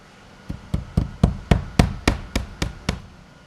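Board and batten siding panels being nailed to a wall, about a dozen sharp, evenly spaced hammer strikes ringing out close and loud, with no talking.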